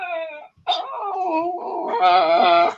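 A dog whimpers and yips close by indoors, high wavering whines broken by a short pause, then a louder, more insistent run of yelps and howl-like cries.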